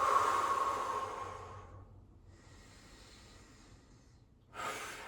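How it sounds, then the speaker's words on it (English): A person doing a floor exercise takes a slow, audible breath, a soft airy inhale fading into quiet, then a brief breathy exhale at the end, close and faint with no voices. "Breathe here."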